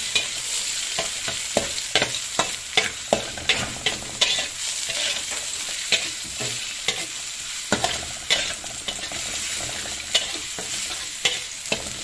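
Shallots added to onions frying in a pan for a stir-fried corn and water spinach dish, giving a steady sizzle with frequent sharp clicks of a spatula stirring against the pan, close and alone.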